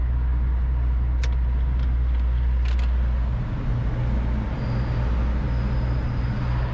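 A van driving through a road tunnel, with a steady loud low engine and road rumble heard from inside. A few brief clicks come early on and a faint high whine enters later.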